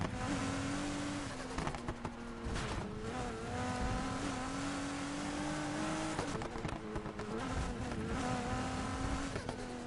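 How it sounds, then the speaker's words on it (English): A Mustang Boss 302 racing in Need for Speed Heat, its engine droning loud and steady throughout, with surges of revving and brief tire squeal. "Mustang Boss 302."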